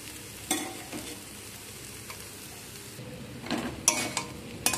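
Boiled potatoes sizzle in hot oil for channa masala, with a steady frying hiss and a few louder scraping stirs of a spoon against the pan near the start and end.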